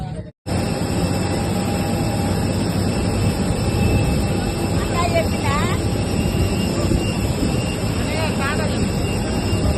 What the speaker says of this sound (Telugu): నడుస్తుంది ఫ్లైట్ స్టార్ట్ అవుతుంది